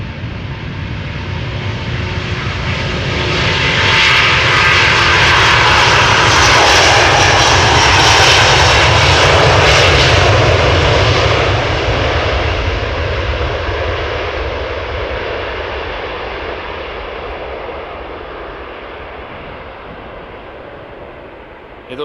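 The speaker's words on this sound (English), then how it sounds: "A330 Neo outbound to Salt Lake City" An Airbus A330neo airliner departs outbound from Amsterdam Schiphol, its engines swelling into a loud, sustained roar that peaks and then slowly fades into the distance, with no talk over it.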